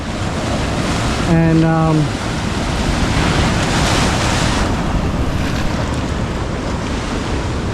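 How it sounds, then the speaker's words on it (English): Rough surf rages along a Northern Beaches shoreline at dusk, with a constant loud roar of crashing waves and wind buffeting the microphone. A short tonal sound rings out briefly near the start, and a single word is spoken. "the ocean's actually absolutely raging"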